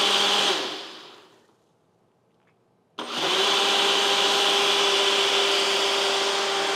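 Ninja blender with Auto IQ blending a shake with ice: a loud whirring motor fades to near silence, then kicks back in abruptly and runs steadily at full roar, close up, with no talk.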